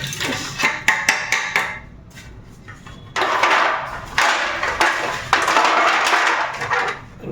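Kitchen containers and utensils being washed by hand, with a run of sharp clattering knocks followed by stretches of splashing, running water, loud and close.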